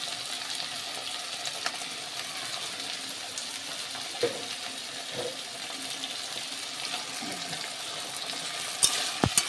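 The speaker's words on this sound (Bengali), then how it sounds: "তো এবার চিংড়ি মাছগুলো একটু ভাজা হলে তারপরে মশলাটা দেবো।" Shrimp frying in a pan with potatoes and salt and turmeric, a steady close sizzle with occasional stirring scrapes and a couple of sharp knocks near the end.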